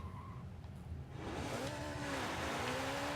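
A Lotus with a 1,200-horsepower V12 engine in Forza 7 launches from fourth gear with wheel spin, its tires squealing as the engine note rises loud and close after a quieter opening moment.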